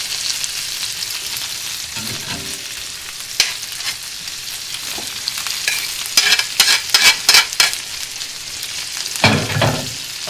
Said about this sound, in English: So we are gonna add our meatballs now.